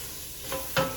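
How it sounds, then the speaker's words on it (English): Vegetables being sautéed in a pan for blackened chicken Alfredo bow tie pasta, with brief stirring scrapes and a short burst of sizzle near the end of a quiet moment. "when I put the veggies in here and saute them"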